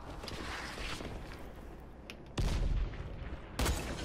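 Grenade explosions in the Dying Light zombie game: two heavy, booming blasts with deep low-end thump, the first at mid-clip and the second shortly after, over a constant background rumble of game ambience.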